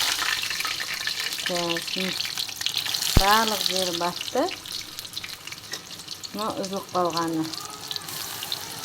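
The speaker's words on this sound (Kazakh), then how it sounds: "Енді осылай қуырамыз." Eggplant slices frying in a pan give a continuous sizzle and light crackle beneath a voice speaking in short phrases, with a sharp clack partway through.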